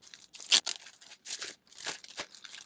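Packing foam around a seenda multi-device Bluetooth keyboard is pulled and unwrapped up close, giving a series of short crinkling, tearing rustles with brief pauses between them, and no talking.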